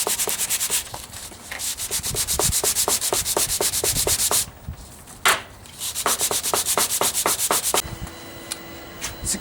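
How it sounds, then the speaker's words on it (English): A sanding block is worked back and forth over the wood of a guitar fretboard in rapid, regular rasping strokes. The strokes are loud and close, with a brief pause midway and a quieter stretch near the end. "I'm actually going to hit this with a sanding block now"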